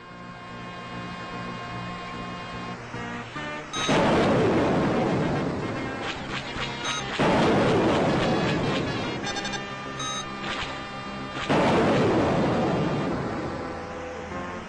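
A Sega 32X cockpit shooter game plays its soundtrack while bursts of blasting gunfire and explosions erupt in three loud waves, each several seconds long, between quieter stretches of music and electronic beeps.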